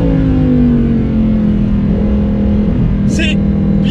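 A four-wheel-drive Lamborghini road-legal race car hums along with a steady, loud engine drone, heard from inside the cabin under someone talking.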